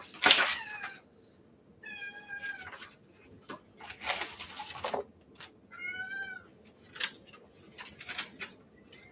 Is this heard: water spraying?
no